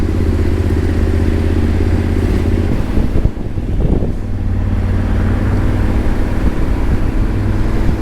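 A motorcycle setting off on a hot summer day in Montevideo, heading for the seaside Rambla, with its engine a loud, continuous rumble; a brief clattering burst breaks in partway through before the steady drone resumes.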